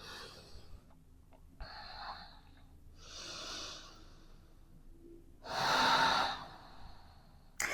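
Slow, audible breaths in a quiet room during a yoga session in downward dog pose, with one long, forceful exhale standing out near the end, a few short breathy puffs before it.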